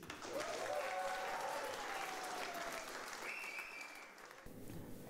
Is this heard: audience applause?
yes